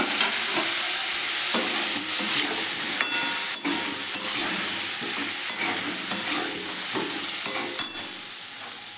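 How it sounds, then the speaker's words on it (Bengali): Cauliflower stir-fries in a pan, a steady hiss and sizzle broken by repeated scraping stirs and the occasional clank of a spatula, close and with no voices. "এরপর ফুলকপিটাও ভালো করে এর সাথে কষিয়ে নিচ্ছি"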